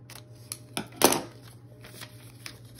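Scissors cutting a paper snippet down into a small journaling card: a few crisp, quiet snips spread over a couple of seconds, one slightly louder cut in the middle, heard close up with no talking.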